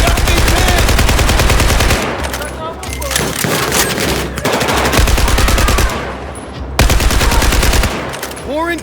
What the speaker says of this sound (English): Rounds downrange! I'm firing!